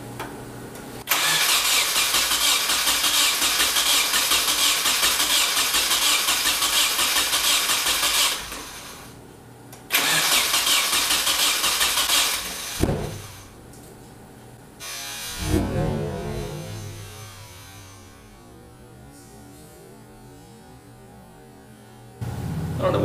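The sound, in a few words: Nissan KA24DER engine startup attempt, cranking and backfire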